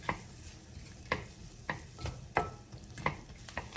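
Onions sizzle in a frying pan as a spatula stirs, giving a low steady hiss with repeated scraping strokes every half second or so, close and moderately quiet, with no speech.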